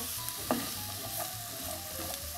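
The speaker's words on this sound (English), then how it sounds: "Just putting the onions into the pan just to fry ever so lightly." Onions fry lightly in a pan with a soft, steady sizzle and an occasional stir, heard close and quiet without speech.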